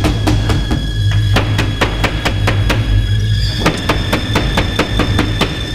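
A hammer strikes a video game disc over and over in sharp, evenly spaced blows, loud and close, more than a dozen impacts in quick succession.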